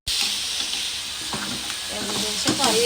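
Onions sauté in a hot pan, a loud, continuous, close frying hiss with occasional soft stirring scrapes and bubbling crackle, and no one talking.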